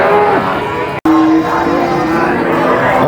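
Cattle low loudly and close by at Purwantoro cattle market, with drawn-out moos repeating over a busy market background with other animals and a crowd murmuring.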